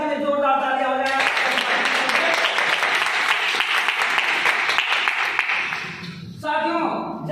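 Strong, dense audience clapping at an income-plan business presentation follows a brief stretch of someone talking. The applause holds steady for about five seconds, then his voice returns over the last scattered claps.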